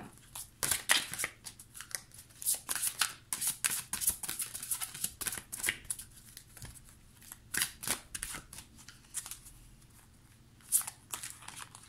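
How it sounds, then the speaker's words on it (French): Tarot cards are shuffled and handled close by in quick, uneven bursts of papery riffling and flicking, with short pauses between the bursts. "je vais prendre 2 cartes."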